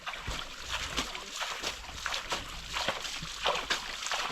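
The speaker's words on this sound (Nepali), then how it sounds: "अहिले चाहिँ बाइक धुने कार्यक्रम हुँदैछ। यसरी धुँदैछ केटाहरू बाइक है।" Water splashes and sloshes in irregular bursts against a motorbike being washed, close by, with a constant wet spray in between.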